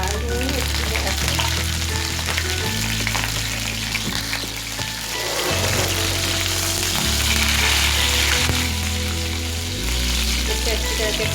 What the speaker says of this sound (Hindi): मैंने एक पैन में ऑयल गरम कर लिया है, मैं इसमें इसे डाल दूँगी अच्छी तरह से।